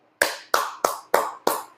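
Five sharp hand claps at a steady, slightly quickening rhythm, close and clear in an indoor billiards lesson setting, each clap decaying quickly.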